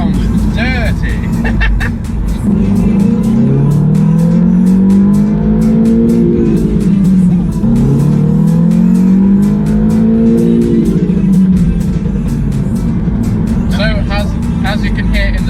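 Stage 2 tuned Audi S1 hot hatch making about 315 hp, its turbo engine revving in rising and falling sweeps with sharp crackling pops and bangs clustered at the start and end, loud and close, while people talk over it.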